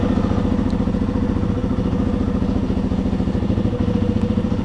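A Yamaha XT250 dirt bike idles steadily and close by in a garage in Eastern Ontario. Its single-cylinder engine gives a rapid, even, putting rhythm throughout, with no talk.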